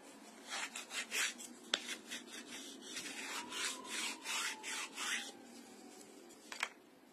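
Soft, rhythmic rasping strokes of sandpaper scraping across a surface, with a couple of sharp taps in between; quiet and close.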